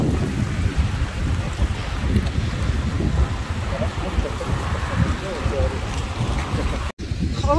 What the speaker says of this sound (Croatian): Kako vjetar puši